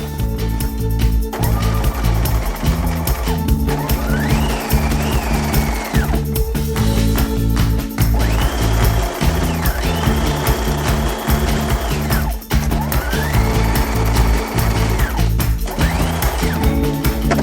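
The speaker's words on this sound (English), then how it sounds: "we're just gonna stitch right here above the seam because it has all this nice seaming everywhere" Home sewing machine stitching a sweatshirt seam and waistband, a continuous mechanical whir with several stretches where the motor pitch rises and holds before easing off, running alone without talk.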